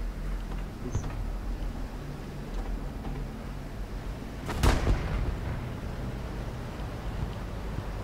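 A single heavy artillery blast booms out in a tank video game, one sharp burst rising over a steady low engine drone, with nothing else standing out before or after.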